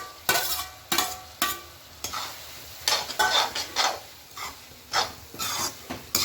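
Chopped capsicum stir-fried in a hot pan for homemade pav bhaji, with a low sizzle under repeated scraping strokes of a spatula against the pan, several rhythmic stirs close and clear.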